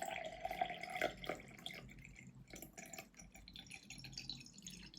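Water poured from a bottle into a glass, irregular splashing and dripping close by, louder at first and then thinning into a softer trickle.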